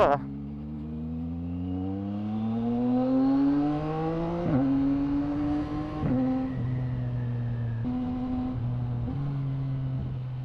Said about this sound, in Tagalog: sarap ng tunog ng quick shifter